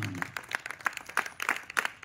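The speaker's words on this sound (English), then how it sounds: "So the applause is very low and not taste." Scattered, fairly sparse clapping from an audience at an SSC results ceremony, with irregular hand claps spread unevenly over a couple of seconds at moderate loudness.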